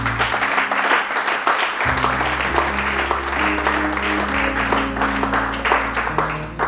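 Church congregation applauding and clapping together during a sermon, a dense, steady wash of applause under organ or keyboard chords and a sustained low bass tone.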